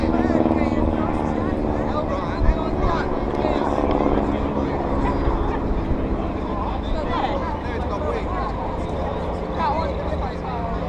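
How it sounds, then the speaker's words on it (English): Fokker and Sopwith triplanes wheel overhead at an airshow dogfight, their engines a continuous droning buzz that rises and falls over eleven seconds while an announcer talks over it. "was the Fokker triplane and the Sopwith triplane wheeling in and out"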